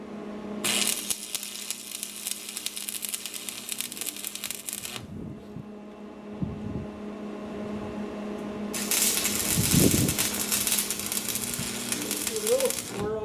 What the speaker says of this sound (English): Now I can weld the whole thing straight across.